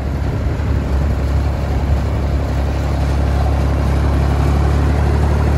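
Steady engine drone of a vehicle moving fast along a smooth dirt field road, with a continuous low rumble and broadband road noise throughout, close and fairly loud, no talking.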